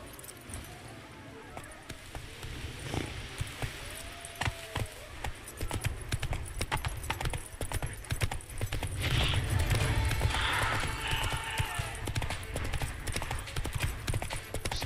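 Horse hooves clip-clopping at a steady gallop in The Witcher 3, a rapid continuous drumming of hoofbeats with tack jingling and light ambient game sound, loud and close throughout.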